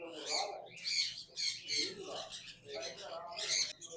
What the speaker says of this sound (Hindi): सन कन्योर, अवैस भाई माशाल्लाह सन कन्योर का कंफर्म ब्रीडर पेयर मौजूद है